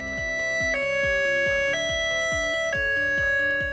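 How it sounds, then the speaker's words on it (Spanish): A steady electronic emergency vehicle siren alternates between two pitched tones, with a pulsing low warble underneath, loud and continuous. "También escuchará el tono de sirena, que por cierto suena así."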